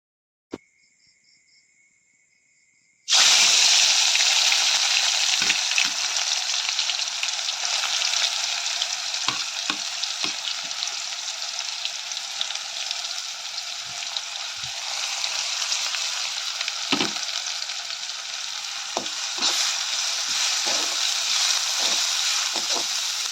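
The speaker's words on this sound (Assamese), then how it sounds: "তেলখিনি বহুত ধুনীয়াকৈ গৰম হৈ গৈছে আৰু ইয়াতে আমি পিচি থোৱা আদা নহৰু পিঁয়াজৰ পেষ্টটো দি ল'ম।" Ginger, garlic and onion paste hits hot oil in a pan for a meat curry, bursting into a loud, steady, crackling sizzle after a brief quiet start, with occasional stirring knocks and pops.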